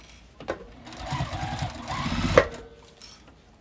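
A sewing machine stitches slowly through bulky foam seams of a quilted bag, a short labored whir rising to a peak with a thump, set apart by quieter knocks before and after.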